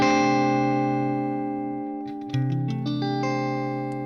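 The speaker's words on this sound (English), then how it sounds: "This is called the 6-9 chord." A guitar C6/9 chord rings out and sustains, then a few notes are plucked and another chord sounds, clear and close with no voices.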